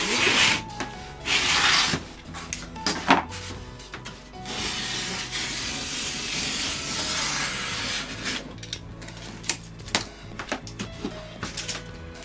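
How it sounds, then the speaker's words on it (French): Cardboard cut with a blade along a long ruler while making an attic cardboard cabinet, a scratchy rasping drag in uneven strokes with scattered clicks and taps, close and moderately loud. "avec la grande règle, je découpe le long de cette ligne"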